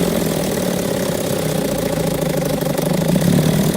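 A 1957 Evinrude 7.5 outboard motor idles in gear slightly high, a steady close putter running without a break and with no voices over it.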